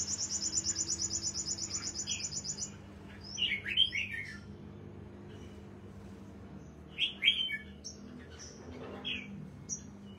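Caged songbirds chirping in the morning: a rapid high trill at the start, then scattered bright chirps and tweets, moderately close and clear, with quiet background noise between calls.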